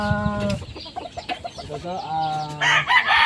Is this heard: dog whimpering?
no